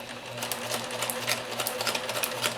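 Sewing machine running a zig zag stitch along thin, delicate fabric, a steady fast mechanical whir with rapid ticking needle strokes, close and continuous, no talking.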